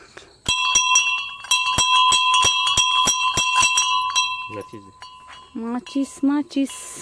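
Metallic bells at a village crossroads shrine in Maharashtra ring in a rapid series of clanging strikes, then fade as a few short voices speak briefly at the end.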